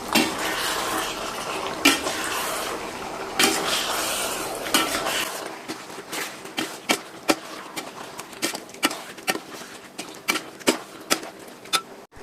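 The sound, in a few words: stirring potatoes into chicken curry in a pot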